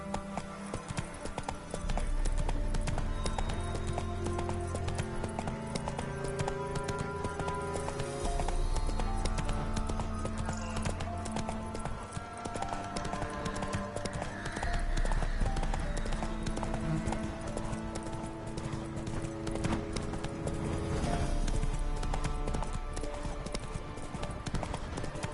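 Roach, a horse in The Witcher 3: Wild Hunt, galloping with a steady clip-clop of hooves over layered game music, rhythmic and continuous throughout.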